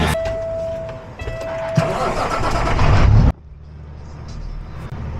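A truck engine pulls forward with a rough, loud mid-range rumble and a faint whine that builds for about three seconds, then cuts off abruptly to a much quieter, distant hum.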